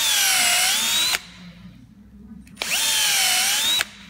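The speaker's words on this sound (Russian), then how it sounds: "Сверлится дырочка." A power drill bores a hole into a UAZ Patriot tire for fitting studs, running in two steady whining bursts of about a second each with a quiet pause between, close and loud, no talking.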